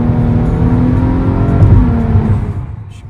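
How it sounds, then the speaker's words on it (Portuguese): A rented V6 car engine revs hard while driving in rain and fog, a loud close drone that swells and then fades away near the end. "Olha o barulho do carro, gente."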